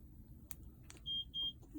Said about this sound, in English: So press once, 1 beep is up, the alarm is now on